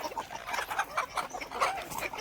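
Full-grown desi village hens clucking in short repeated bursts, close and fairly loud, a busy overlapping flock with no talk.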